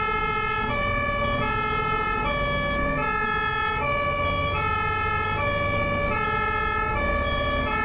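An ambulance siren in German traffic wails in a steady two-tone pattern, loud and close, alternating high and low pitches over a low rumble of road traffic.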